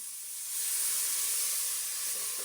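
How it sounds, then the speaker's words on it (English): Stock poured into a pan of cooking onions and tomatoes gives a steady, soft hiss of sizzling that swells slightly and holds without a break. "Since we don't want our tomatoes to stick, we are going to add in our stock."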